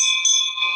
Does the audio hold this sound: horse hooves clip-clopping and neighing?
no